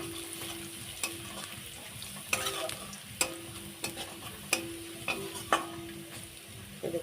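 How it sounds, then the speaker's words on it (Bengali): Ginger and garlic frying in a pan for a low-oil cauliflower curry, a steady close sizzle broken by repeated sharp stirring scrapes and clinks of the spatula, with no voices. "আদাটা দিয়ে দেবো, রসুনটাও দিয়ে দেবো, দিয়ে একটু ভেজে নেবো।"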